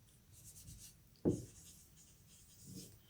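A marker or chalk scratches across a board during a maths lesson on determinants, with faint strokes, one sharp knock as it meets the surface, then softer rubbing, near and quiet, with no talking.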